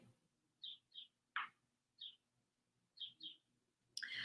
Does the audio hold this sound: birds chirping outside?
yes